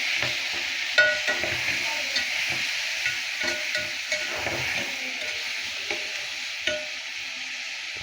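Chopped tomatoes fry and sizzle in a pan while being stirred, a steady hiss broken by frequent scraping and clinking strokes of the spoon, close and continuous with no talking.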